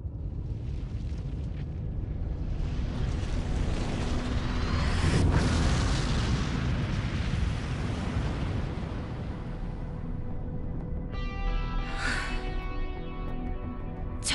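A game-trailer explosion effect in the style of Dungeon Fighter, a sustained, loud roaring rumble with a swelling blast near the middle and a rushing, wind-like wash throughout, ending in a bright, shimmering tone.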